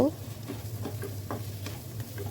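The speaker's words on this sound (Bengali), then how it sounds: "এই তো আমি এটাকে একটু হালকা একটু ভেজে নিব" Black pepper and other spices fry lightly in a pan for Maggi noodles, a soft steady sizzle with small scraping stirs and a low background hum throughout.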